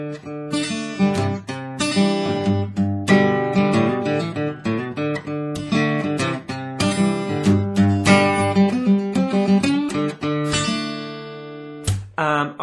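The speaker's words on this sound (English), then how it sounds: "we're going to look at how to play the intro riff now" A guitar plays the bright, rhythmic intro riff of a song with picked notes and strummed chords, loud and close, steady throughout.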